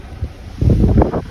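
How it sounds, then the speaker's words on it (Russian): Strong cyclone wind in Yalta buffets the microphone in short heavy gusts, rising into a loud rumbling blast after a brief lull. "очень сильный ветер и очень холодно."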